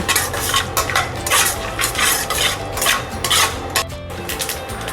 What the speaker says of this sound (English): next add peanuts, fry it nicely